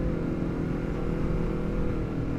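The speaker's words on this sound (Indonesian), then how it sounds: "knalpot Villan MV2 ini menurut gua enak sih, salah satu knalpot ori lokal terbaik" Honda CBR250R motorcycle fitted with a Villan MV2 carbon forged full-system exhaust, idling with a steady, close, low engine rumble throughout, no revving.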